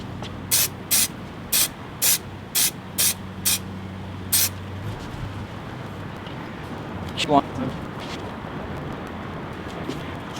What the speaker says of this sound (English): Just spraying this real well.